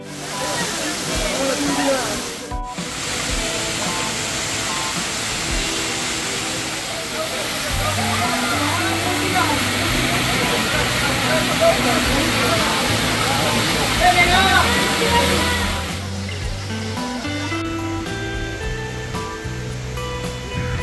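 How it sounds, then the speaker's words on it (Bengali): A waterfall at Ajodhya Pahar in Purulia roars in a constant loud wash of falling water, with crowd voices and other sounds over it. "ঝর্ণার জলের আওয়াজে অন্য সব আওয়াজ ঢাকা পড়ে যাচ্ছে।"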